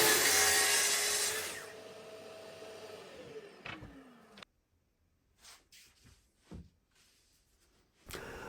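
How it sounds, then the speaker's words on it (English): A power saw rips through a 6mm plywood sheet, cutting a cabinet back: a loud, steady whine for about four seconds that winds down as the blade spins to a stop, followed by a few faint knocks and handling sounds. "And the final cut in the 6mm ply is for the cabinet back."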